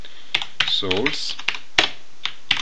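Keys clacking on a computer keyboard as a command is typed, a series of sharp, close taps in irregular bursts, with a brief voiced sound from the person typing partway through.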